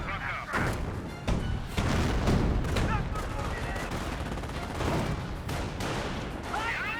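Mortar shells and gunfire in a Company of Heroes 1 battle, dense crackling rifle and machine-gun bursts with thudding impacts, continuous and loud under a commentator's voice.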